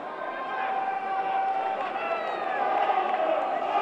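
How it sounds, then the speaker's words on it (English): Oldham rugby league supporters in a stadium, a broad distant crowd roar swelling gently under a commentator's voice. "You can hear the Oldham crowd."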